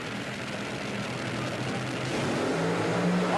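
1982 NHRA Cajun Nationals drag cars launching off the starting line, a broad roaring engine wash heard from a distance that swells slightly toward the end.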